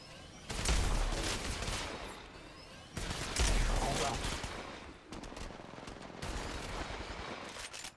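Gunfire in the mobile video game Apex Legends Mobile, several dense bursts of automatic fire at roughly two-second spacing, loud and close, mixed with other game effects.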